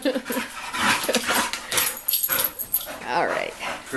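A pet dog whimpers and pants in short soft bursts close by, mixed in with a voice talking to it.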